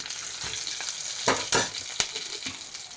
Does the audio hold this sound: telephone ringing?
no